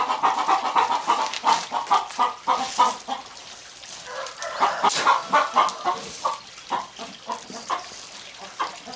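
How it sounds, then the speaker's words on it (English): Chickens cluck repeatedly in a farmyard, a lively run of short, close clucks and squawks that keeps going without a pause. "I want to kill a chicken"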